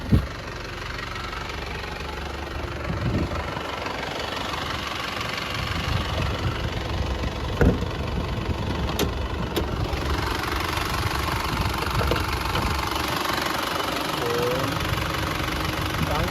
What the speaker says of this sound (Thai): สียงเดินเบาเครื่องยนต์ครับผม เสียงเดินเบา เรียบเนียนนะครับปกตินะครับผม